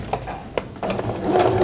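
A domestic sewing machine stitches an open seam on a wolf-mouth zip pouch, with short mechanical clicks building into a brief run of whirring stitching up close.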